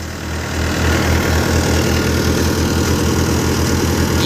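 A Euro 55 tractor with a 15-speed gearbox runs a Malwa multi-crop thresher, its engine rising to a loud, steady rhythmic chug and drone close by.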